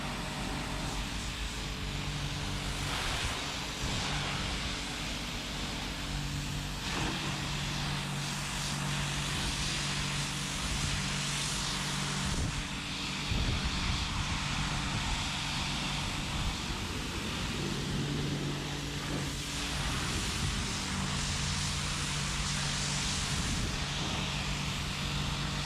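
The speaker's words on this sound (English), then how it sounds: "Wheel getting more attention with the pressure washer." Pressure washer spraying the wheel and tire of an old, dirty, abandoned car, raising mist. A loud, continuous hissing roar with an engine-like drone runs unbroken throughout.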